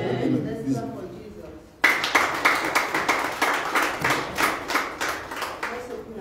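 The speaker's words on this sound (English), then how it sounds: "Let's clap for Jesus." A church congregation claps after a prayer, preceded by a brief murmur of voices, then a rhythmic, fairly loud unison clapping starts abruptly and keeps a steady beat to the end.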